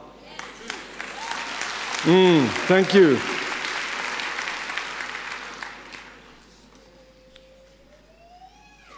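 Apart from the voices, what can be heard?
audience applauding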